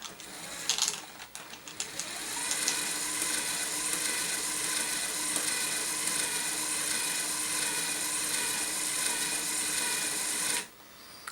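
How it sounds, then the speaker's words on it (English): LEGO Technic elevator mechanism driving a swing carousel model, a steady whirring motor with rapid ratcheting gear clatter running continuously for about ten seconds before stopping abruptly, loud and close. "We've got our elevator working."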